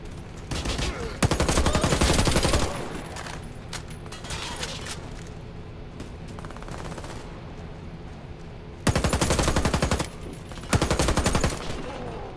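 Sustained automatic rifle fire in the shooter game Warface comes in long, loud bursts at the start and near the end, separated by a quieter stretch of background noise and faint mechanical clatter.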